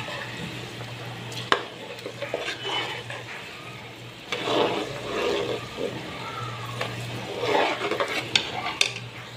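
Food for nimco daal sizzles in hot oil while a utensil stirs and scrapes the pan, with a steady low hum underneath.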